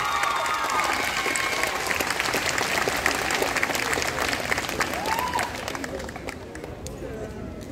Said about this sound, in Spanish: Pedimos un fuerte aplauso para la alumna.